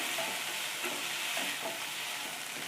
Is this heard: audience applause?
no